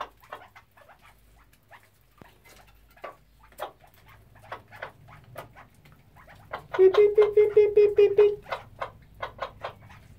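Hen raising a partridge chick, with soft repeated chirps and clucks close by, then a quick run of loud rhythmic clucking notes before quieter peeps resume.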